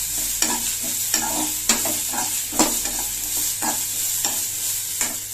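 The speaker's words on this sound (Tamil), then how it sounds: "அதில் வெங்காயம் சேர்த்துக்கணும். வெங்காயம் லேசாக அப்படி வதங்கினவங்க" Onions sauté in a pan for a meal maker and green pea kurma, a steady sizzle broken by repeated scraping stirs of a spoon, close and clear with no talk.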